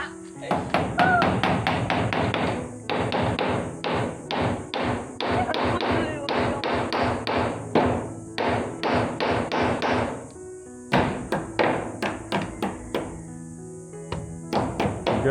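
Two nails driven in with a hammer, a long run of sharp close hammer blows in quick steady bursts with short pauses between sets, no talk over them.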